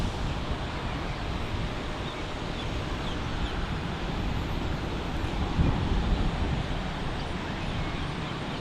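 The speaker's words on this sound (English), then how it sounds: "looks like another Southwest departure is rolling" A Southwest airliner rolling for departure at Fort Lauderdale International Airport, heard as a distant, steady broadband jet roar mixed with wind noise that swells slightly partway through.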